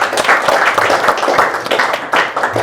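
Audience applause fills a creatives panel event in Los Angeles, a dense, steady wash of many hands clapping close and loud throughout, with a brief surge near the end and no talk over it.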